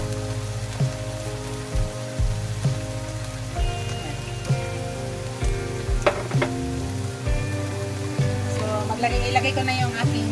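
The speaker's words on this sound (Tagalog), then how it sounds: "Lutuin lang muna natin yung onion." Chopped onion frying in a small amount of olive oil in a pan, a steady close crackling sizzle with scraping stir sounds and clatter, with background music playing throughout.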